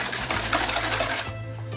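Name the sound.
electric mixer beating egg yolks with sugar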